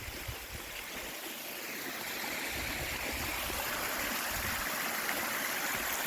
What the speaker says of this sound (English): Gorgeous little waterfall.